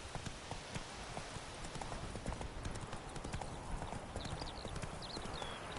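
The horse Roach gallops in a fast, steady clip-clop of hooves in a video game, close and continuous under a faint background hiss, with no talk.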